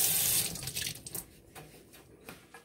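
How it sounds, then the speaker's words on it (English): Tap water runs into a sink while hands are washed, loudest at first, then continuing more softly with small splashes and drips for a few seconds. "All right, let me wash my hands."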